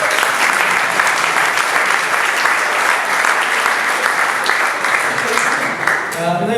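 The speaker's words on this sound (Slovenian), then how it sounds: "En aplavz." Sustained applause from a crowd at a cycling awards evening, dense steady clapping throughout that begins to thin out near the end.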